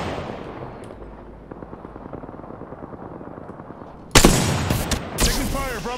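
Gunfire in Apex Legends: a steady stream of muffled rapid shots, then a sudden louder burst of blasts and ringing weapon effects near the end.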